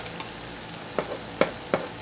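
Shredded cheese frying and crisping in a hot pan, a soft steady sizzle punctuated by three or four quiet taps or pops near the end.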